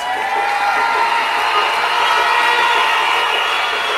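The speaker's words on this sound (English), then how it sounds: "let's give them a round of applause, please" Audience applause and cheering for election candidates standing at a local government candidates presentation, a dense, steady wash of clapping and crowd noise filling the room throughout.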